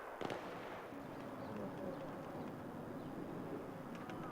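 Gunfire crackles in the Battlefield 3 video game as distant rattling shots with one sharper crack near the start, over a constant faint rumble of battle.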